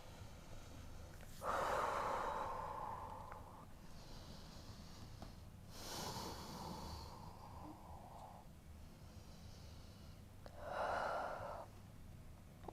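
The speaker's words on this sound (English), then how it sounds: "We'll take 2 breaths here." Slow, deep breaths taken during a yoga downward facing dog pose, with three audible breath sounds spaced out over the stretch, fairly close and soft against a quiet room.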